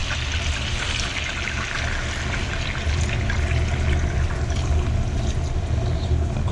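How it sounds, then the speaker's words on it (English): Good brandy splashes into a coq au vin pot in a home kitchen, a steady pouring trickle over a constant wash of noise that grows slightly louder halfway through. "so in with the good brandy we go."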